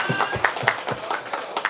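Wedding guests at a Vietnamese bride's send-off ceremony give a brief, scattered round of applause, claps spread unevenly across the crowd with some voices mixed in.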